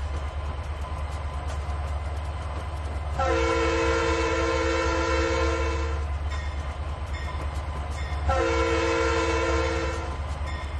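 Two long, loud train horn blasts in the Trainz 2019 video game sound over a steady low rumble, the first lasting about three seconds and the second, shorter one following after a pause.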